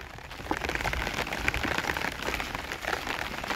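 Steady rain falls outdoors, a continuous crackling patter of drops at moderate loudness with small irregular spikes, no talking over it.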